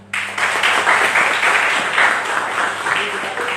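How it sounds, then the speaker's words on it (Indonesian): An audience bursts into applause at a university architecture open talk in Indonesia, a sudden dense clapping that stays loud and sustained, filling the hall without letup. "Tepuk tangan."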